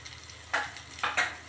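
About 200 grams of small shallots drop into a hot pan, giving short bursts of sizzling and frying hiss, two or three quick surges over a faint background.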